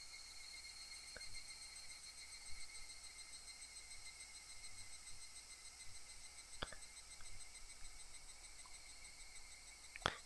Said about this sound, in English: I'll leave you guys with the sounds of the cicadas, with the sounds of the higurashi